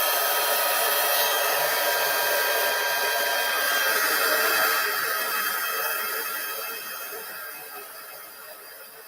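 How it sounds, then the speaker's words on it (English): A heat gun blows a steady, loud whooshing hiss while heat embossing a branch design on vellum cardstock, running continuously up close and slowly easing down toward the end, with no talking. "So let me heat this up and we will emboss the branch."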